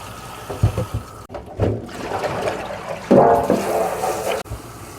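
Radish greens are rinsed under running tap water, with splashing and gushing that swells and breaks off, as the leaves are handled and swished through the stream, loud and close.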